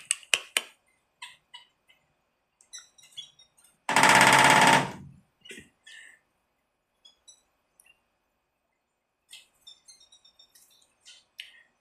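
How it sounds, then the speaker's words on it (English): A small woodpecker drums out one loud, rapid burst lasting about a second, set among scattered sharp chirps and squawks from birds nearby. "That little guy there makes so much noise. That little woodpecker."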